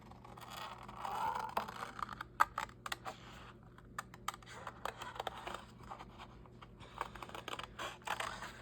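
Scissors trim the front of a paper greeting card, with quiet, irregular snips and clicks and some paper rustling and scraping close by.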